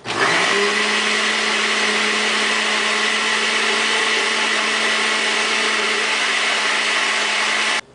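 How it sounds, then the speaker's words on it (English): A blender whirs continuously at high speed through a pineapple bourbon glaze, loud and steady from start to a sudden stop near the end, with no talking. "Okay, we're going to blend this back up."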